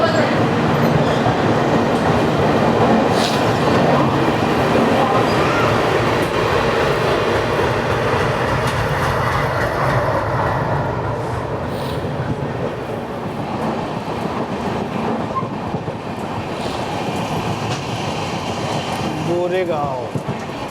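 Saurashtra Janta Express pulling out of Borivali: a continuous, close rumble of the coach with rhythmic wheel clatter and occasional squeal, with voices faintly underneath.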